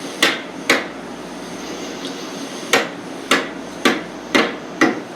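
Hammer striking wooden boards: seven sharp, loud knocks in an irregular rhythm, a pair close together, a gap, then a quicker run of five, each ringing briefly over quiet room tone, with no talking.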